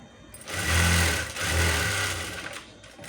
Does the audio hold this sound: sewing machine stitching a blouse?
yes